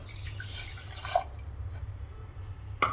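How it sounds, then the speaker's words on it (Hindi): A cup of water is poured onto sugar in a pan to make syrup for Sindhi gheeyar: a soft splashing pour for about a second, then fading trickles and a final drip, faint and close. "चाशनी बनाने के लिए मैंने 1 कप शक्कर ले ली है और इसमें डालूंगी मैं 1 कप पानी।"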